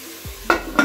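Onions being sautéed in a pan for Telugu-style naatu kodi (country chicken) curry, with two loud, close scraping stirs over a soft, steady background.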